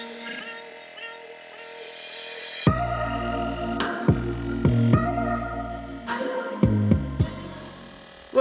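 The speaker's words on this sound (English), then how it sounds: "You can probably hear the compressor going in the background." Air compressor pumping up a van tyre on a roadside trip in Mexico, a steady low throbbing hum running throughout with a few sharper clanks and knocks layered over it, no speech.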